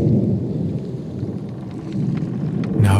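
A thunderstorm sound effect with a deep continuous rumble of thunder over steady rain, heavy and close, running alone without narration.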